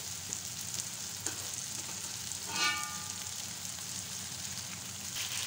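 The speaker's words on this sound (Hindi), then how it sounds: "तो ये अभी इसमें हमने सारी बोटियाँ डाल दी हैं और अब हम इसे मसाले में अच्छी तरीके से फ्राई करते रहेंगे" Beef pieces fry in a tomato and onion masala, a faint, even sizzle running throughout with a brief brighter crackle midway, close and unaccompanied by speech.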